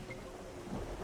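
Steady rain pours with a low rumble of thunder during a thunderstorm in the video game Terra Nil, a brief continuous wash of storm ambience with no voices.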